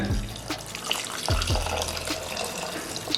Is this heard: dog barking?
no